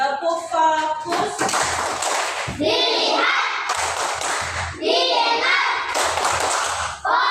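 Elementary schoolchildren in a classroom perform a focus clapping routine, sharp rhythmic bursts of hand claps alternating with their chanted voices, close and lively throughout.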